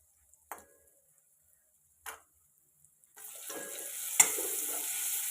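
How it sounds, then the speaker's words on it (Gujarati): Paneer cubes frying in oil over a low gas flame for a Gujarati matar paneer dish: a couple of quiet clicks, then a steady close hiss of sizzling that rises and continues to the end, with one sharp tap partway through. "આને આપણે ધીમા ગેસે ફ્રાય કરવાનું છે।"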